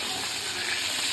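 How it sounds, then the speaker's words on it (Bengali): Eggplant (brinjal) slices fry in a pan, giving a steady, close hiss of sizzling oil that holds evenly throughout, with no talking. "এবার বেগুন দিচ্ছ? বেগুনটা ভেজে নেবো।"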